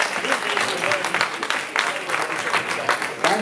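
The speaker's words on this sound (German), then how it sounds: "einen schönen Applaus für diese stark besetzte Klasse" Steady crowd applause at a bodybuilding contest, the NABBA Austrian Open 2014, after a men's athletic class is announced; dense continuous clapping fills the hall at fairly close range, with a voice talking over it on the PA.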